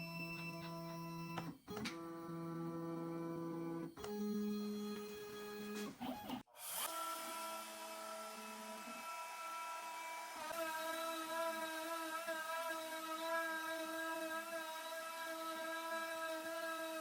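A Shapeoko 4 XXL CNC router flattens a wooden cutting board blank, its spindle whining steadily at close range with brief pauses and shifts in pitch as the cutter passes, no voices present.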